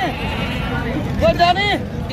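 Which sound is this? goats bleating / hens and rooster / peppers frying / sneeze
goats bleating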